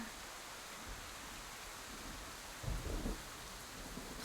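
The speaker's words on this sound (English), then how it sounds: "You're outside. It's raining." Steady rain hisses throughout in the Scarlet Hollow video game, with a low rumble of thunder rolling in briefly near the end.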